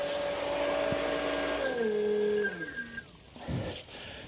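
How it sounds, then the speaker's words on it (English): A swimming pool pump runs with a loud steady whine and hum, then is switched off and winds down in falling tones over a couple of seconds, leaving faint rattles and a soft thump afterward. "I'm going to turn off the pump right now."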